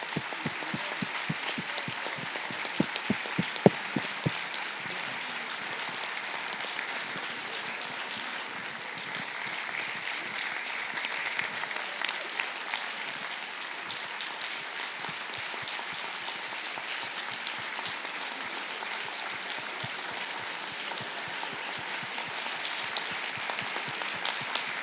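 An audience at a work festival talk applauds steadily, dense and even clapping that runs on at moderate level with a few sharper claps near the start.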